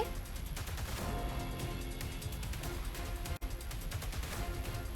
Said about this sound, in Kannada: ಪಟಾಕಿ ಸಿಡಿಸಿ ಫ್ಯಾನ್ಸ್ ಸಂಭ್ರಮಾಚರಣೆ